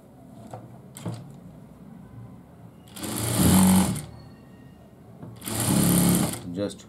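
A sewing machine stitches a men's asymmetric kurta in two loud, close bursts of whirring needle action lasting about a second each. Between them are quieter handling noises and some talk.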